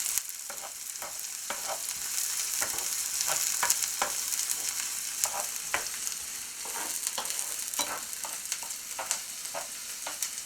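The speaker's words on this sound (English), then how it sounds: "I just want to saute these until they're nice and tender" Diced black jalapeños sauté in a pan with a continuous close sizzle, punctuated by frequent sharp clicks and scrapes of stirring throughout.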